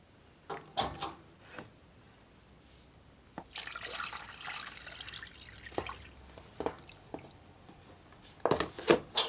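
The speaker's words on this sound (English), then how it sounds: "you can control the flow coming out quite nicely and easily catch that inside your little tub" Water drains from a slackened radiator valve nut into a small tub on a domestic heating system, trickling and splashing in irregular spurts and drips, with a steadier gush mid-way and close, clear splashes.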